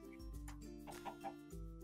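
A Minecraft chicken clucks several times in quick, choppy bursts, close and clear against a steady low hum, with no talking.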